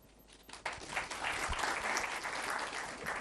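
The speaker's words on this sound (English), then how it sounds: "this one genuinely deserves a clap" A student audience at LUMS University bursts into applause, swelling quickly from quiet to sustained, fairly distant clapping that holds steady through the rest of the clip.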